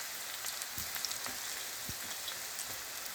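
Spinach pakoda fritters frying in a small pan of hot oil, a steady close sizzle with scattered crackling pops and no talking.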